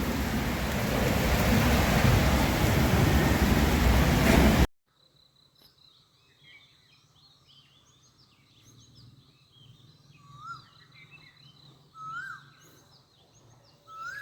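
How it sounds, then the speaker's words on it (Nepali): Heavy rain pours down outdoors at dawn for a few seconds, then cuts away to a quiet early morning where a bird gives a few faint, short chirping calls at a distance. "बिहान बिहान अचम्मको चरो देखियो"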